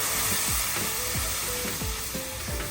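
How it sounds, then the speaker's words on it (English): Flour whisked into olive oil with onions and garlic in a pan for mushroom gravy, a loud continuous sizzle broken by rhythmic whisk strokes about every half second, with no talking. "I'm going to put in some flour. We're gonna sprinkle that in, and we're going to whisk it around"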